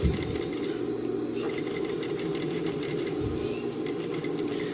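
A sewing machine stitches a load-bearing seam close along a join on jeans fabric, its steady motor whir running continuously and evenly, close up with no talk.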